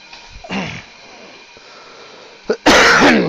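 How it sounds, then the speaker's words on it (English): A man coughs several times while sitting at his workbench: a brief cough, then a louder, harsher burst near the end, with quiet room noise in between. "I've still got a remnant of that lingering cough"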